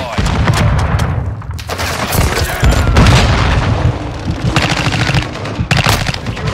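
Heavy booms mixed with rapid gunfire from a Call of Duty Modern Warfare II match, including a trap mine explosion, form loud, dense, continuous combat sound with sharp bursts throughout.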